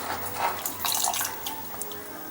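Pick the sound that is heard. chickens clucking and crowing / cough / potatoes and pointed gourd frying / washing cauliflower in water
washing cauliflower in water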